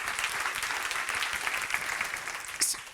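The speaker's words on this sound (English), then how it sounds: "Can I get a round of applause for Amanda?" Applause from a conference audience, a dense wash of many hands clapping at a fair distance, steady and even with a faint voice briefly rising near the end.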